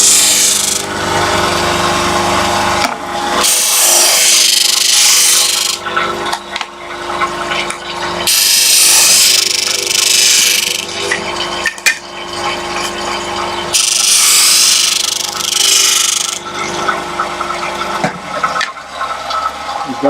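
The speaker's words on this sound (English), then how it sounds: "Just back to my sander." A power sander works on wood in a dovetail jig workshop, its loud whirring and grinding rising and falling in several long passes separated by short pauses, with no talk.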